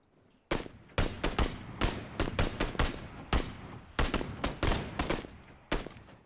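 SKS rifle gunfire in the PUBG video game rings out as rapid, loud, overlapping shots, with some single cracks and some dense bursts over about six seconds.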